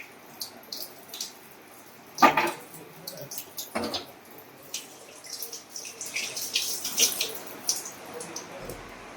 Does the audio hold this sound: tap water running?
yes